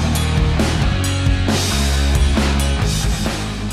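Dense, loud sound effects from an old record of scary haunted-house noises, found at a swap meet. The layered rumbling and droning textures play continuously, with no talk over them.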